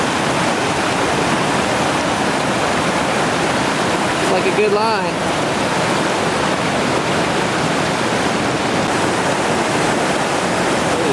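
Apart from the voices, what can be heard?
whitewater rapid on the Gauley River, Chainsaw Rapid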